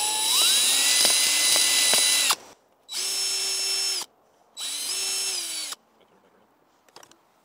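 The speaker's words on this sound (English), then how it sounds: "we'll just go ahead and drill a couple holes right on" A power drill whines loudly in three bursts while drilling holes into a pumpkin, revving up and holding a high pitch, with brief quiet gaps between and a soft clatter at the end.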